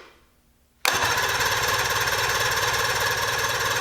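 A 1978 Evinrude 115 hp outboard motor started with the choke on: after a near-silent moment, the engine fires abruptly and settles into a loud, steady, rapidly pulsing run.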